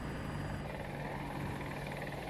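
Attack helicopter in the video game Battlefield 2042 gives a steady, continuous rotor and engine drone at moderate level, unbroken throughout with no talk.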